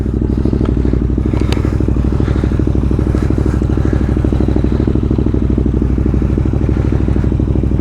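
Triumph Thruxton RS motorcycle engine idling close by, a steady loud throbbing pulse with mechanical clatter throughout, no talk.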